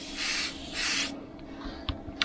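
A Gaahleri Mobius airbrush with a 0.3mm needle sprays Createx paint in two close, sharp hissing bursts of about half a second each, followed by faint clicks and taps as the trigger is released.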